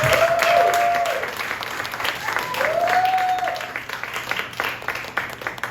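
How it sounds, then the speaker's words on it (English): Audience applause at a live music show at the Blue Strawberry, a full wash of clapping that is loudest at first and thins toward the end while a voice talks over parts of it. "give one extra applause for them"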